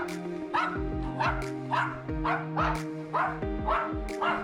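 A small Pomeranian–Spitz mix dog barks repeatedly indoors as its owner gets ready to leave, with rapid, insistent yips about every half second, close and loud throughout.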